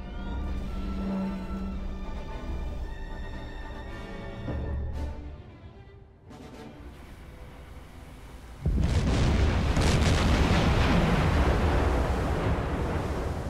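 Torpedo hits explode against a ship in the submarine game Silent Hunter 4, with low rumbling booms and then a sudden loud, sustained roaring blast that swells and lingers, and no talk.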